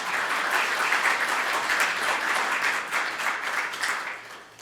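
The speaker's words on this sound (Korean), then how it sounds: "큰 박수 부탁드립니다." Sustained applause from an audience at a Buddhist spring dharma gathering held at the National Assembly, a dense steady wash of clapping that holds loud and slowly thins toward the end.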